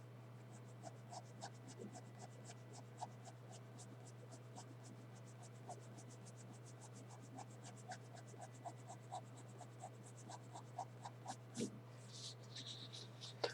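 Pencil strokes scratch across paper while drawing blonde curly hair, rapid soft scribbles in short repeated bursts, close and quiet over a steady low hum, ending with a few sharper rubbing strokes.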